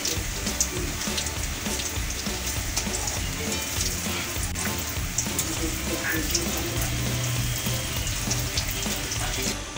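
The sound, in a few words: mourala fish pakoras frying in oil on low flame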